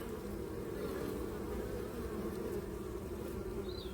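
A dense, steady hum of honeybees buzzing together at the hive, close and continuous, with no other sounds.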